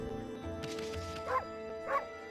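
A wolf character in Okami HD barks twice, a short yip and then another, clear above steady game music with no talking.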